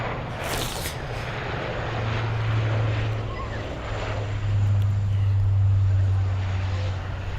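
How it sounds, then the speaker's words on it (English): A Nexus Airlines Dash 8 turboprop at Perth airport on runway 03/21 gives a steady low engine hum that swells and holds, with a brief rushing burst near the start, heard from a distance outdoors. "Nice hum in the engines from the Nexus Dash 8 there"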